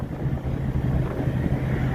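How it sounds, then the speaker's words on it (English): A truck's engine drones steadily while driving along toward camp, a continuous low rumble with buffeting wind noise and no pauses, fairly loud throughout. "this truck is running pretty darn good again"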